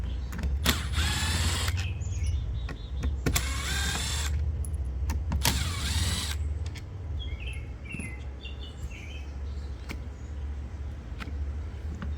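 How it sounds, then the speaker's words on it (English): A cordless screwdriver backing out Phillips screws from a car's third brake light, three short whirring bursts close by, with light clicks and handling noises between them. "just a matter of moving four Phillips screws"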